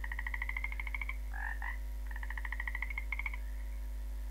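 A frog croaks in a cartoon, giving rapid trilling pulsed calls in several bursts over a steady low hum, fairly faint and with no talk.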